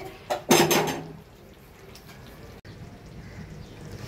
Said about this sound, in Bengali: এখন সুন্দর মতন ঢাকনাটা দিয়ে ঢেকে দিব